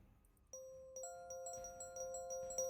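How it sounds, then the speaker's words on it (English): Bells ringing during a tabletop role-playing session, a series of clear, faint chimes that start after a moment of quiet and keep repeating, each ringing on and overlapping the next. "I hate these bells. I wish they would stop."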